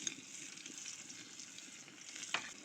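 Chopped onion and green chili frying in mustard oil, a soft, steady sizzle with a light stir or clink near the end.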